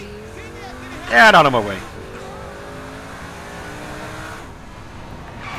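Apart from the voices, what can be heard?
car engine in the video game Saints Row 4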